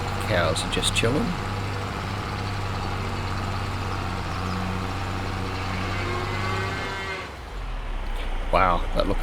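Cattle in a Farming Simulator 22 barn give long, loud moos over a continuous low engine hum, with someone talking over parts of it.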